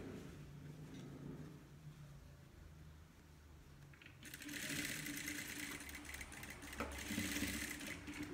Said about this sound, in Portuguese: Eu vou colocar assim na máquina, tá? Ó, vai empurrando e vai costurando aqui pelo lado do poá, pelo lado do forro